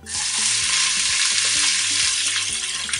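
Chopped onion hitting hot oil in a cooking pot for Congolese pondu with cassava leaves, giving a loud, steady broadband sizzle that fills the whole stretch, with low knocks of a utensil under it.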